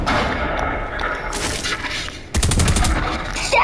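Rapid gunfire from the Fortnite video game, loud bursts of repeated shots running through most of the clip, swelling into a denser volley in the second half, with no speech.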